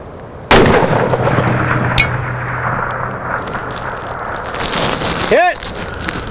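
A single sharp, loud .338 Lapua rifle shot cracks at close range on an open range, followed by a long fading rumble and a faint distant impact report.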